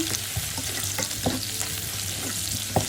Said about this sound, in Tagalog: Isilid na rin natin ang ating luya. Nadami. Ayan. Igisa lang.